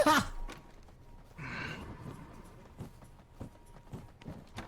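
Horse hooves clip-clop in a roleplay fantasy video game, irregular soft thuds spread across a few seconds with a brief breathy whoosh near the start.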